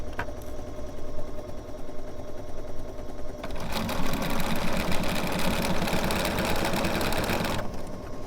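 A sewing machine quilting a Celtic quilt with a 97D quarter-inch presser foot starts with a quieter, steady mechanical hum, then runs much faster and louder in a continuous buzzing burst for about four seconds before slowing again.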